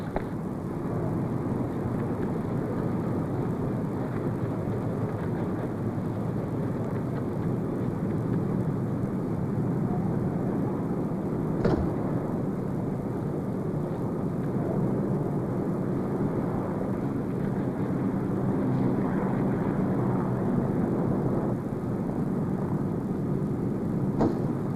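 Steady, continuous airliner engine roar from an American Airlines flight departing for Mexico City, a broad even drone holding at one level throughout with no voices.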